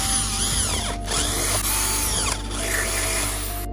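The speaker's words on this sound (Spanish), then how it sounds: "Ahí tenemos las marcas en el cual vamos a proceder a barrenar con la broca 316." Power drill boring holes with a 3/16 bit into a fixed aluminium window frame, a steady whining drone running continuously with slight pitch shifts as it cuts, close and loud with no talking.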